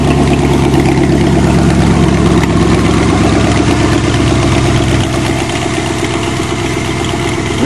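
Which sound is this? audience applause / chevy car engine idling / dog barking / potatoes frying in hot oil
chevy car engine idling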